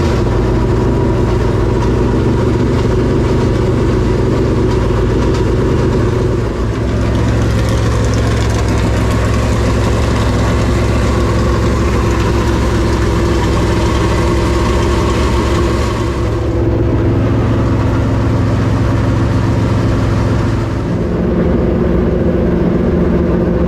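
A race car engine idles steadily after being cranked during an engine swap before a series finale at I-75, a continuous loud low rumble with slight shifts in tone throughout and no voices.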